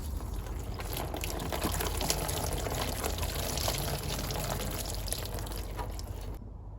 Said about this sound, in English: So the first thing I need to do is drain the or some of the coolant out.